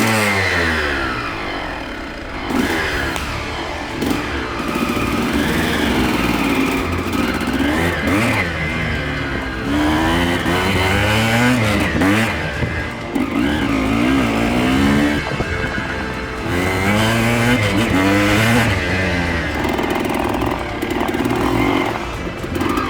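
Old dirt bike engine, brought back after sitting 20 years in a shed, runs loud and close for the whole stretch, revving up and falling back again and again with a raspy, buzzy tone and no speech.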